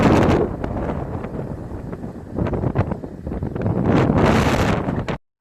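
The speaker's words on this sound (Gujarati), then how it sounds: "અત્યારે છે દરિયા ને પવન એટલો છે કે અવાજ સરખો રીત આવતો હોય કે નહીં એ કઈ ખબર નથી" Strong wind buffets the microphone at the seashore near a temple road, a loud continuous roar surging and easing, with no voice heard, cutting off abruptly near the end.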